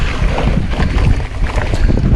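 Wind buffeting a microphone outdoors during a mountain bike race in Malta, a loud, close, continuous rumbling roar that surges and dips.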